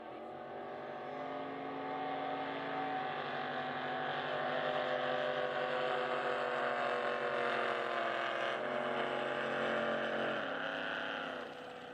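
A drag racing boat engine roars continuously and loudly at a San Angelo drag boat finals, a sustained, rising mechanical drone that holds for several seconds before easing off.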